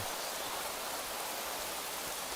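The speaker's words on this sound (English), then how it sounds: "I'm just getting the rain music. And that's not music, it's just a sound effect." A dense, uniform wash of rain noise from the video game Craft the World hisses steadily throughout, with no pauses or voices.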